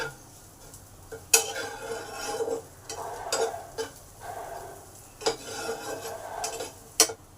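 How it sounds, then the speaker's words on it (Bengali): Egg and onion fry in a pan for egg chowmein, a soft sizzle under intermittent scraping strokes and sharp clinks of a spatula against the metal, no voices. "একদিকে ডিমটাকে আমি ভেঙে ভাজা করে নিচ্ছি পেঁয়াজ আর ডিম যখন আমার ভালোভাবে ভাজা হয়ে যাবে"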